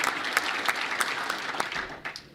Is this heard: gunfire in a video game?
no